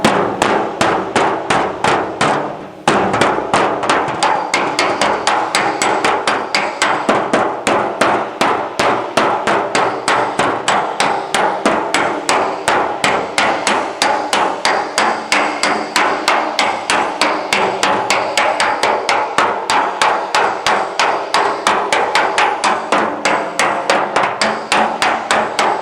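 Rapid, steady metallic hammering of a hammer against a dolly, planishing a dented aluminum auto body panel, with dense repeated strikes close up and loud for the whole stretch, a brief pause near the start.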